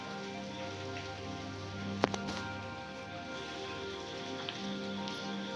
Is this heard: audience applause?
no